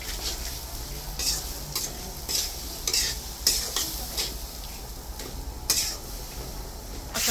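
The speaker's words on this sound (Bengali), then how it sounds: "মশলাটা ভালো করে কষানো হয়ে গেছে, তেল ছেড়ে দিতে" Spiced paste for a Bengali fish curry, made with turmeric, chili and salt, sautés in oil in a pan. It sizzles steadily, and a utensil scrapes and stirs against the metal every second or so. The sound is close and continuous, with no voices.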